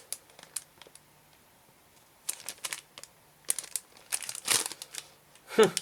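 A resealable plastic bag holding 1/35 scale 7TP light tank model kit parts is pulled open, giving scattered bursts of close crinkling and rustling that grow busier and louder, set against near silence.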